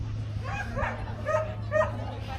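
A dog near a busy harbour makes a few short yips and whimpers at close range over a low steady hum, with people talking nearby.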